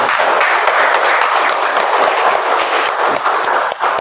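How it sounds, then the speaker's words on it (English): A short burst of audience applause at a meeting, steady and fairly loud clapping from a room of people throughout. "Can we have a round of applause?"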